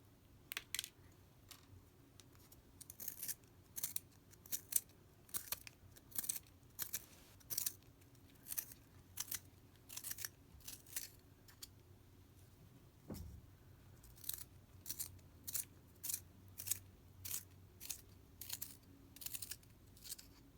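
Quiet, close scraping clicks repeat in quick bursts as a pencil is twisted in a small Möbius & Ruppert Castor brass sharpener, with a faint low hum behind.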